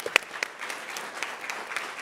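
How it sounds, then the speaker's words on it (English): Audience applause after a startup pitch competition at a tech conference, steady clapping with a few sharp nearby claps over a crowd's general applause. "Give them a round of applause."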